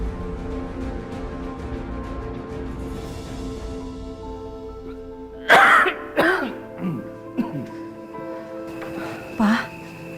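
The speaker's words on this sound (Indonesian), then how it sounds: "Papa dari tadi batuk terus." A man coughs several times in a home indoors, a cluster of sharp, close coughs and throat-clearing following a stretch of steady background tones and murmur.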